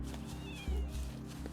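Kittens meowing in the video game Wuthering Waves, a couple of short mews over a steady game music background, fairly close and clear.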